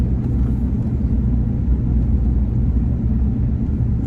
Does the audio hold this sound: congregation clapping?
no